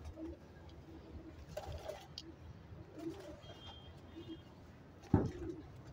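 A pigeon walking on the ground below coos softly in a few low, rolling murmurs at a moderate distance, with quiet background and one sharp knock near the end.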